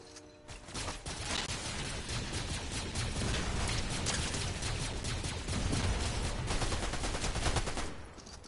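Video game gunfire crackles continuously for several seconds, dense rapid shots and bursts layered into a steady barrage at moderate loudness, with no one talking over it.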